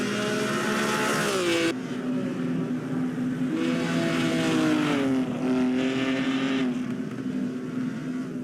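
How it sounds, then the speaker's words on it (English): 1950 Pau Grand Prix race cars, including Ferraris, roar toward the finish line in a loud, sustained engine drone whose pitch shifts as cars pass and change gear, several machines overlapping in steady succession. "And now also the rest of the field is closing into the finish line."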